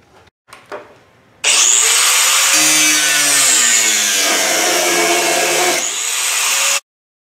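A power tool cuts out a metal section for a coilover mount, starting with brief knocks and a spin-up, then a loud, sustained high-pitched grinding whine close by that wavers in pitch before cutting off abruptly, with no talk.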